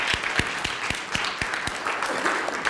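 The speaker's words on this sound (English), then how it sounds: "I think we should just applaud that, first of all." An audience at a talk on education, activism and the Black Panthers' legacy gives brief applause, with scattered claps at a steady rhythm in a room.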